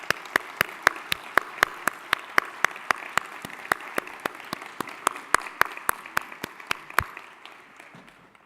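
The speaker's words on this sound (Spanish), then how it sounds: "reciba el aplauso que se merece también por su papá" Applause rises from a ceremony audience as someone is called to the front: rapid, evenly paced claps carry on for about seven seconds, then die away with no speech.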